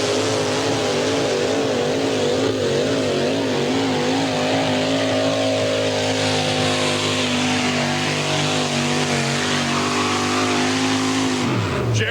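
A 4WD pulling truck with a 649 cubic inch engine roars steadily as it drags a sled at a Canfield, Ohio pull, its loud sustained engine note wavering in pitch before dropping off sharply at the end.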